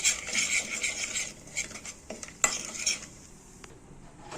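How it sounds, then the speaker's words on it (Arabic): Chicken being stirred in a cooking pot with turmeric and curry, close and clear: a spoon scraping and clinking against the metal while the contents rustle and faintly sizzle. "نقلبهم تقليبه مع بعض كده"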